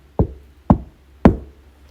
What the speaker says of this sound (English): I would hear this little small knock at the bottom of my door